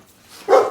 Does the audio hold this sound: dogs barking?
yes